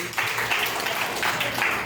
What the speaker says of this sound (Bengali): জোরে একটা হাততালি